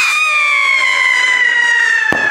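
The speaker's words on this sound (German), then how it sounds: "Das war Sirenen-Rakete" A siren rocket firework gives a loud, sustained whistling wail that slowly falls in pitch, close and piercing, with a short sharp crack near the end.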